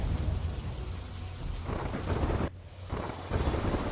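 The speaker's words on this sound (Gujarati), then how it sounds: "પાટસર, દ્રોણ સહિતના ગામોમાં પણ વરસાદ વરસી રહ્યો છે." Steady, dense rain falls in a drizzly monsoon shower over villages, a continuous hiss with rumbling low noise and wind buffeting the microphone, brief dip midway, no voices.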